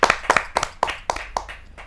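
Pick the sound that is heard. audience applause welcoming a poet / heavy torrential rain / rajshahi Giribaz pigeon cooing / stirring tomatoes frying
audience applause welcoming a poet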